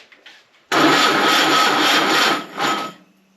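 A junk Ford Model A engine cranks on a weak battery, its carburetor leaking gas. The starter grinds loud and steady for over two seconds, then sags, surges briefly and dies out.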